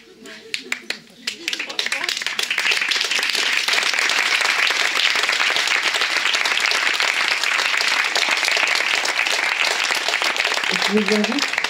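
Conference audience at a talk on the therapist's attitude bursts into sustained, loud applause after a few opening voices, clapping dense and steady throughout, with brief talk returning at the very end.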